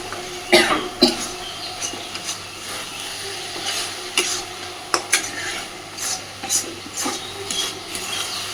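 Elephant foot yam stalks cooking in a pan are stirred briskly with a utensil, giving repeated sharp scrapes and knocks over a low sizzle, with a cough nearby.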